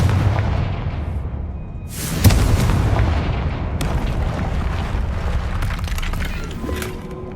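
The Confringo blasting spell goes off in Hogwarts Legacy, a single sharp explosive boom followed by a rumbling tail, with further fainter cracks and debris rumble over steady background game sound.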